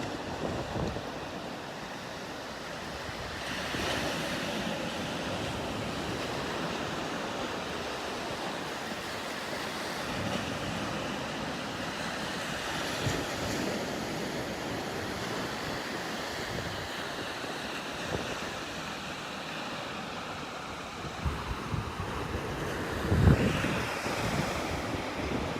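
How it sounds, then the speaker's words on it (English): Ocean surf on a flat day at Pawleys Island beach, with small waves breaking steadily about eight seconds apart under constant wind rumble across the microphone, no voices. "It's flat today. Waves are about 8 seconds apart."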